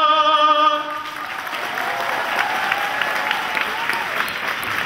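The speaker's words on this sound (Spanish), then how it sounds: "Fuerte el aplauso." Sustained applause from a crowd at a church festival for the Virgin of Altagracia, breaking out right after a sung anthem ends and continuing steadily at a moderate distance.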